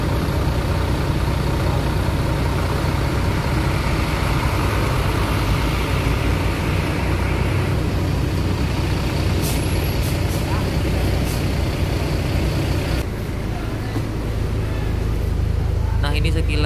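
A Bagong Patas bus idles with a steady low diesel rumble, while bursts of air brake hiss come through near the middle and a voice talks over the engine noise.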